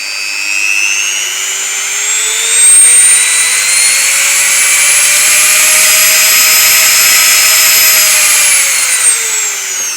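Morponi BN 5 rotary engraver, a 130-watt motor rated to 30,000 rpm, whines loud and close at high speed, its pitch climbing slightly then easing back, steady throughout with no talking.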